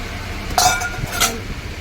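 Bowls and kitchen utensils on a market stall in Malad clink as they are handled, two short bright metallic knocks standing out over a low murmur of background noise.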